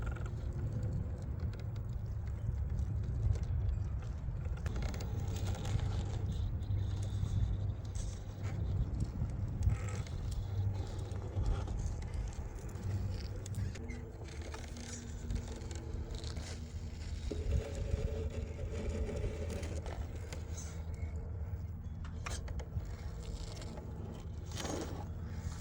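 A 1:10 RC4WD Trailfinder 2 crawler with a Hobbywing motor and Dick Cepek Trail Country 1.7 tires creeping slowly downhill, giving a continuous close rumble of tires crunching and scraping over dirt and rock.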